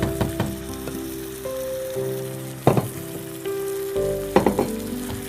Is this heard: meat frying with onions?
yes